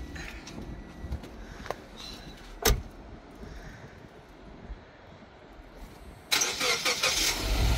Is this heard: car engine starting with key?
yes